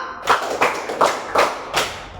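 Students in a school PE class clap together, producing a short run of sharp, roughly evenly spaced group claps that sound close and moderately loud over a faint room background, with no talk.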